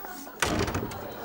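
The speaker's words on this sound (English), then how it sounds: "Shut that blinking door." A door being shut in a room during a wedding breakfast speech, a single solid thud followed by a sustained muffled rumble of room noise and shuffling.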